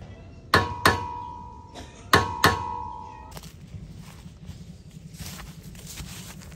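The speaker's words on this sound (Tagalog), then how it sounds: "So, pupukpukin ko to para lumabas dito sa likuran." A metal part with stripped threads is knocked out from behind with a hammer: four sharp, close blows in two quick pairs, each ringing briefly, followed by low workshop background noise.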